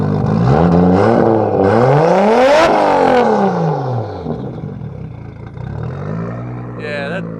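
Nissan Skyline R32 engine, built by a tuner for a customer, revving loudly up and down in repeated sweeping pulls, close by, with voices talking over it.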